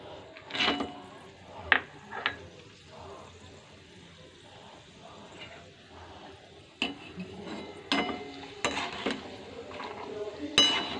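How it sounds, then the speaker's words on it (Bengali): Peanuts frying in a pan on low heat: a soft, low sizzle with scattered scrapes and clinks of a spatula and pan, the louder knocks bunched toward the end. "এর সাথে আমি বাদাম ভেজে নেব।"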